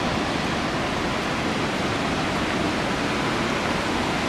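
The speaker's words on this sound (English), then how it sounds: "So here we are making our way to the waterfall." Sahalie Falls, a waterfall in Oregon, roars as a dense, constant rush of falling water, loud and unbroken throughout with no voices.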